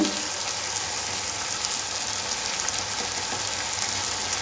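Spices such as turmeric and cumin sizzle steadily in hot oil for a fish curry, a continuous close, bright frying hiss with small crackles throughout and no talking.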